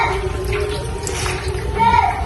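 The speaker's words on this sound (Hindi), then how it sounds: "इमली का पानी बचा था उसमें पल्प जो था उसमें 1 गिलास पानी मिला के और वो इसमें डाल देंगे" Tamarind water with pulp pours into a pan of eggplant curry, a continuous liquid splash and gurgle heard beneath background noise.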